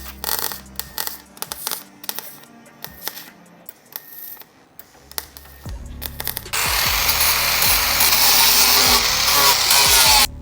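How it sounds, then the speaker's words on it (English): Spot welding on Ferrari 308 GTS bodywork, a run of short sharp crackling bursts and clicks, then a sustained loud buzzing weld with rhythmic ticks, close up. "just build it up, just do little spot welds"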